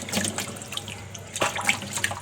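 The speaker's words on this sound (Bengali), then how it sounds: "মাছ ধুচ্ছি এখন" A large fish being rinsed in water, with running and splashing water sounds close by, several brief sloshes and drips with no talking.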